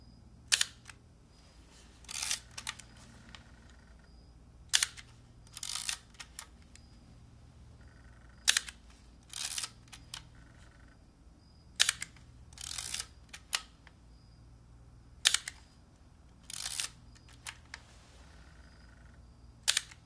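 Camera shutter clicks come in an irregular series of about twenty sharp, close snaps, some in quick pairs, with quiet gaps between them and no talking.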